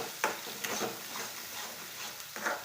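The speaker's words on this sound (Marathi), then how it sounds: "एकदम तेलामध्ये मसाला असा परतून घ्यायचा मस्त." Masala sautéed in hot oil for chicken curry, with a few distinct spoon-scraping stirs over a low, steady sizzle, close by and fairly quiet.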